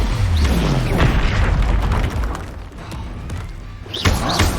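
A booming Expulso spell explosion in Hogwarts Legacy, a heavy thudding blast with rumbling debris, followed by more game effects and a brief whooshing burst.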